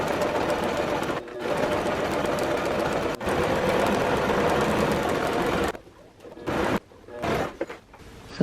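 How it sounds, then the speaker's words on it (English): A sewing machine runs a straight line of stitching along a curtain panel, a dense rapid mechanical whir held at steady loudness for several seconds, briefly paused twice, then stopping into short intermittent bursts and handling noises. "I'm just going to sew a straight line this way"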